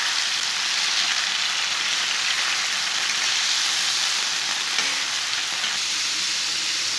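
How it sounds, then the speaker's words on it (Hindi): Boneless chicken fries on a hot tawa over low heat, a loud, steady, dense sizzle that holds evenly throughout with no voices. "चिकन डाल के 1 मिनट तक भून लेंगे।"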